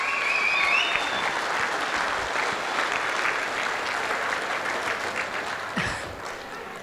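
Sustained applause from a large audience at a closing ceremony in a Chennai hall, a dense, steady wash of clapping that holds throughout and thins slightly toward the end.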